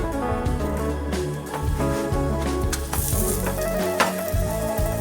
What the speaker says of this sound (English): nice and shiny and brown paratha frying on each side.